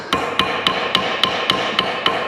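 A hammer strikes metal in a steady series of about eight sharp blows while brake parts are being removed from a Citroën C3. The blows are evenly spaced, ring with a metallic tone, and carry over a constant background hum.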